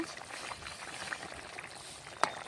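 Fish and cauliflower curry with potato bubbling in a pot on the stove, a soft, low simmer of small pops and gurgles with a few sharper bursts, faint and close.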